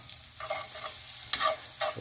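Garlic sizzles quietly in a pan, a soft crackling hiss with a few short bursts as it is stirred.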